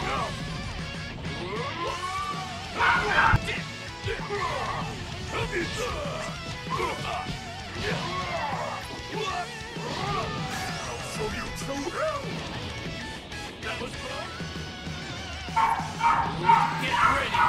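Dogs barking in a room during a ranked Sparking Zero gaming session, repeated yips, barks and whimpers scattered throughout, with a crash near the start and bursts toward the end, over a background of game sound and talk.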